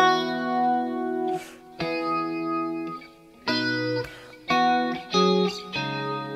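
An electric guitar with effects, distortion and chorus plays ringing chords, several sustained strums with short gaps between them, close and full, with no speech.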